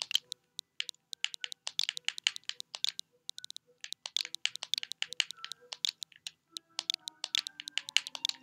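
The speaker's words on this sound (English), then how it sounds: "Type in the password again." Rapid, irregular clicking of keys as a password is entered on a Nintendo Switch, crisp close taps in quick bursts with a short pause midway, no talking.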